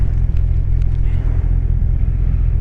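A 2020–2021 Kawasaki Ninja 1000 SX motorcycle pulling away smoothly, a loud, low, steady engine rumble close by with no sharp revving.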